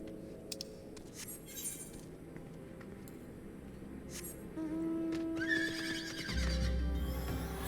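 A horse in the game Final Fantasy XIV lets out a whinny over soft clip-clopping hooves, moderately close, with ambient game sounds and a low rumble toward the end.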